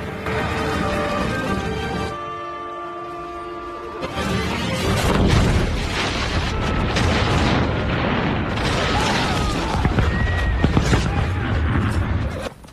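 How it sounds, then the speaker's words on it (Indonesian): A gunpowder store blows up in a military camp with horses nearby, loud booming blasts and crashing debris that rumble on for several seconds after an earlier stretch of music. "Dan ledakan telah memporak-porandakan perkemahan dan sebagian pasukan sekutu Kaido"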